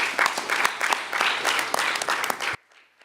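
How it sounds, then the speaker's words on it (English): An audience at a members' meeting gives a short round of applause for the chair of a nominations committee, steady clapping for a couple of seconds that then cuts off abruptly. "A round of applause for the chair of NOMCOM."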